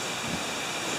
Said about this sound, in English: Right now it's a bit windy